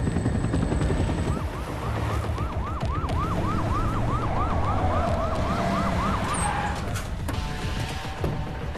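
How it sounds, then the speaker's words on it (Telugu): A wailing ambulance siren in an emergency rush scene, its rising and falling sweeps running steadily for several seconds over a dense roar of engine or rotor noise, fairly loud with no talk. "మీ అంబులెన్స్ రెడీగా ఉంది."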